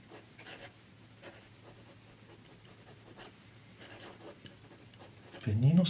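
A Leonardo Momento Zero fountain pen scratches faintly across paper in short strokes, soft and close, before a louder rustle at the end; a voice is heard talking.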